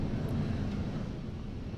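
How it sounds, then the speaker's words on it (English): A SpaceX Falcon 9 rocket climbs through max Q, its engines throttled down, giving a steady, dense low roar with no breaks, heard from a distance and without any voices over it. "Falcon 9 actually throttles itself down as it passes through max Q and then throttles back up once we're through it"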